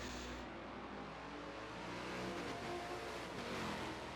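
Race cars in a multiclass sim racing game at Sebring go into a heavy braking zone, a steady dense engine drone holding at moderate level throughout, with no clear passes or pauses.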